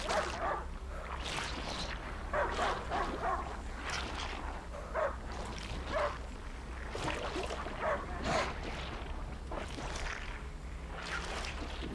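Dog barking in the video game A Plague Tale: Innocence, a run of repeated barks and yips at moderate distance over a steady low ambient rumble, with no talk.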